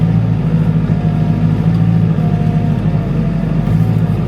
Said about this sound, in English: you get a lot of engine noise